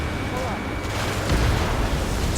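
A destroyed armored personnel carrier explodes in the jet combat game Ace Combat 7, a dense, rumbling blast that swells briefly within a steady roar of engine and battle noise.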